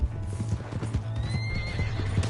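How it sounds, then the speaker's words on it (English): Horse hooves clip-clop at a steady gallop while the animal whinnies and neighs, all from Red Dead Redemption 2, loud and close with a continuous rhythmic thud. "Hey, that's my horse."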